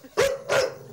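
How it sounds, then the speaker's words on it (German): A dog gives two quick, close, loud barks in a row, each short and sharp. "Wenn er lang genug bellt, muss man irgendwas tun."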